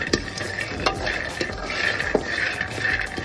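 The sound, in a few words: dry roasting peanuts in a pan, stirring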